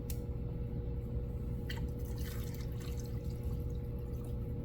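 Gasoline poured into an engine carburetor float bowl during a carb repair: a continuous, close, quiet liquid trickle and drip over a steady low hum, with no talk.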